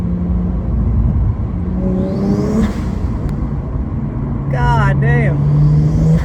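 BMW N54 engine fitted with an aluminum intake manifold, cone filters and a flashed tune, revving under load during a test drive, rising and falling in loud sweeps with someone speaking over it.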